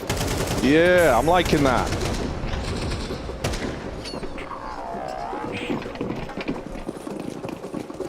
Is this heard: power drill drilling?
no